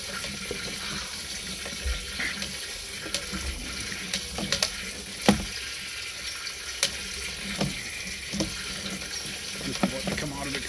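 Steady running water hisses continuously, with occasional clicks and knocks over it and faint voices in the background.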